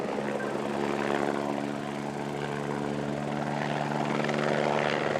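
Steady droning of a helicopter with a continuous rotor hum and engine whine, fairly close and constant throughout.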